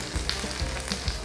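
Seafood scallion pancake batter (haemul pajeon) sizzling and frying in a hot pan, a steady crackling hiss with small pops and a few soft stirring or pressing knocks, close and moderately loud.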